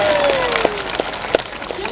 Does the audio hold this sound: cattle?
no